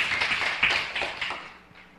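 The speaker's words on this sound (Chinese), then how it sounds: "我们掌声一下" A short burst of applause from a group at a Mid-Autumn Festival greeting gathering, a soft, dense patter of claps that fades away within two seconds.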